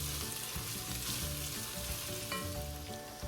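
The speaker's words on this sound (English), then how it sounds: "while your peppers, onions, and celery is cooking with the bacon" Peppers, onions and celery frying with bacon in a pot for Hoppin' John, a thick continuous sizzle with a few stirring scrapes, close and steady, no voices.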